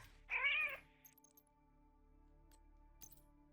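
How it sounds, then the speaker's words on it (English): A cat in the video game The Division 2 gives a single clear meow, close and fairly loud, followed by faint clinks and quiet background ambience. "Be nice to the kitty."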